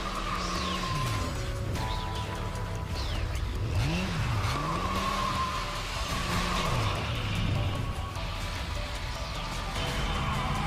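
A motorcycle in the action game Bayonetta roars and skids with squealing tires, engine revving continuously while sweeping, swooping tones rise and fall; loud, busy game action without speech.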